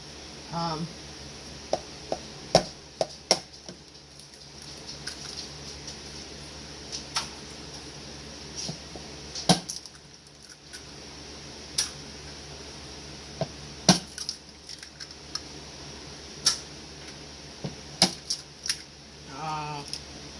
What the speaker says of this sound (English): We are going to beat the eggs